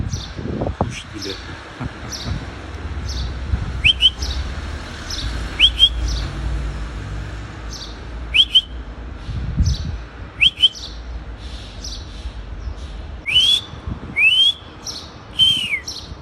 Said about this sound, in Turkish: Kuş ile biraz konuşalım.